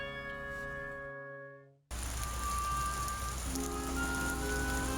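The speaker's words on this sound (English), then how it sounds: "it's raining like crazy outside" Heavy rain falls outside, a dense steady hiss that cuts in loudly and continues without letup after a short stretch of sustained musical tones.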